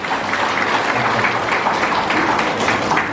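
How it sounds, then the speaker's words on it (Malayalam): An audience at an achievers' gathering claps continuously, dense, loud applause sustained evenly from start to finish without speech. "എല്ലാവരും ഒരു നല്ല കയ്യടി"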